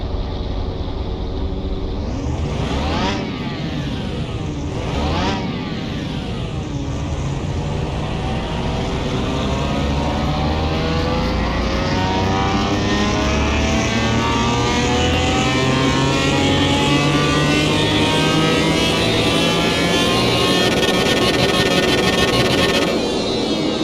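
A tuned car with a performance ECU revs hard on a dyno in Car Mechanic Simulator 2021, its engine note climbing and sweeping steadily upward for over twenty seconds, loud and continuous with no talk.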